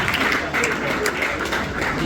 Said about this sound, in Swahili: Makofi mazuri sana.